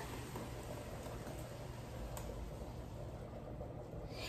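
Pureed liquid for stuffed peppers pours into a cooking pan, a continuous close splashing and bubbling rush that stays steady and fairly loud throughout with no talking.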